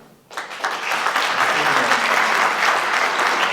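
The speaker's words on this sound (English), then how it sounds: "please clap for this if you can agree with it or relate to it at all" Audience at an awards ceremony bursts into applause after a brief quiet moment, then sustains dense, steady clapping throughout.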